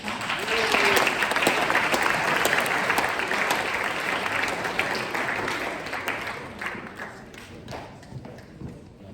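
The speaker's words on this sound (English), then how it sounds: "please give them a round of applause" An audience applauds at a campus discussion event, a loud, full crowd clapping that peaks early, then gradually thins into scattered claps, with a few voices murmuring underneath.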